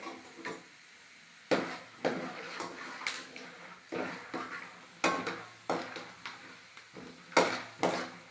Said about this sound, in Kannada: ನಾನು ಈಗ ಶೇಂಗಾ ಬೀಜವನ್ನು ಹುರಿಯುತ್ತಿದ್ದೇನೆ.